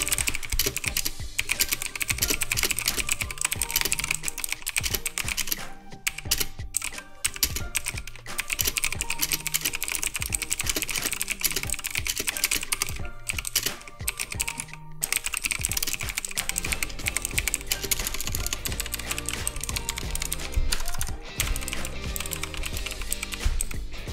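Rapid typing on a G-Lab Keys Meca mechanical RGB gaming keyboard, a dense steady clatter of key presses with brief pauses, close and loud, with no talking.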